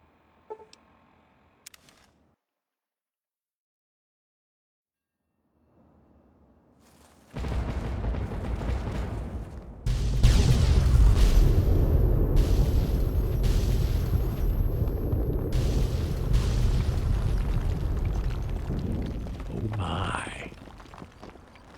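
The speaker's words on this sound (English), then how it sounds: "I like how the heat of the explosion makes the metal frame of the aviary glow." An explosion in the video game Fallout 3 at a mansion's metal-framed aviary: quiet game sounds, then a loud booming blast that builds into a sustained roaring rumble.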